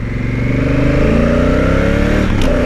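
Honda Africa Twin motorcycle engine pulling hard under acceleration, a loud close-up growl with rising pitch through the gears and a brief shift near the end, with wind noise over the top.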